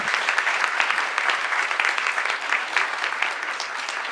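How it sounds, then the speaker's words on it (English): Applause for a graduating class at a college recognition ceremony for adult and transfer students: a large audience claps steadily and briskly, a full even wash of hands sustained throughout without speech. "One more round of applause."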